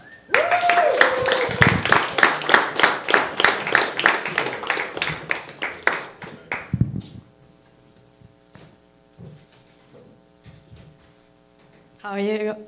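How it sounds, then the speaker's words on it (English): An audience at a stand-up comedy open mic breaks into rhythmic clapping and cheering for several seconds, then it fades to quiet room tone before a voice starts speaking at the end. "with a big round, thunderous, loud applause, please, Yashika."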